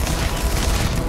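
A cryo grenade detonating in the video game Starfield, a dense, sustained burst of rumbling explosive noise filling the short moment, loud and continuous with no voices over it.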